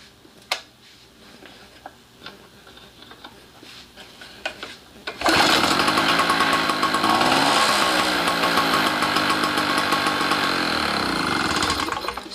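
A repaired generator's small engine, its CDI fault fixed, comes to life partway through after quiet ticking and handling, then runs steadily with a loud, close, buzzing drone to the end.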